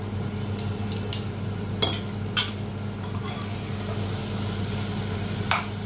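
Garlic and ginger going into a hot frying pan for mutton curry, a steady low sizzle running throughout with a few sharp spoon clinks and scrapes against the pan.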